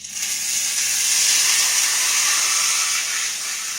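A T-bone steak sears in a hot pan, giving a steady, bright hiss that holds loud and even for a few seconds with no voices over it.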